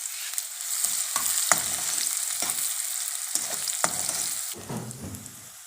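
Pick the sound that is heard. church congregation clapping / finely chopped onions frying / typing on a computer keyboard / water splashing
finely chopped onions frying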